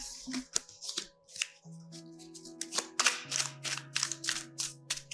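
Tarot cards handled and shuffled at a reading table, quick papery riffles and taps in bursts over steady tonal background music, close and clear.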